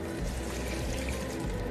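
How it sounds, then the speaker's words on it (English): Clam juice pouring into a pot for creamy clam chowder, a steady close liquid splash and trickle lasting under two seconds, heard alone without talk. "We are now going to pour in the clam juice."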